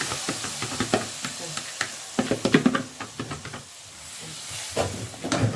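Tomatoes tipped onto browned fried onion in a pan, a close crackling sizzle broken by irregular clatters and stirring knocks, steam hissing between them.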